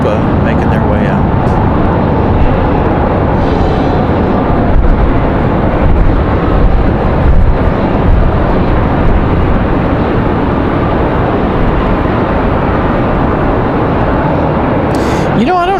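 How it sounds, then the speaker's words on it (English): A Copa Airlines jet taxis out at Raleigh-Durham airport on a windy day, giving a loud, continuous engine roar and rumble that fills the whole stretch. "You're hearing Copa making their way out."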